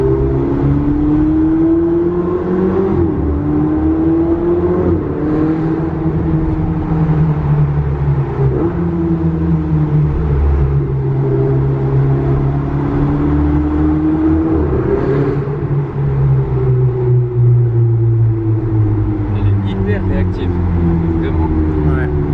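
A Ferrari fitted with a Capristo exhaust runs close by, its engine droning and swelling through repeated rev changes, with people talking over it most of the time.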